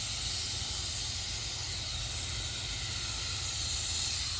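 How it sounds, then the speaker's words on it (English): Steady, close hiss of activator spray misting over floating cowhide-pattern hydro-dip film, continuous and even for a few seconds with no talk. "We're going to spray our activator over it."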